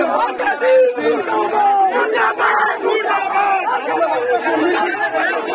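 A large crowd at a Ram Navami procession in Ara chants and shouts slogans in protest, loud and continuous, with many overlapping voices and raised cries.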